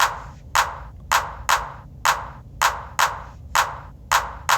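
A punchy drum pattern in a repeating three-beat tresillo rhythm for a zouk beat, sharp bright hits spaced unevenly and looping steadily, with no voices.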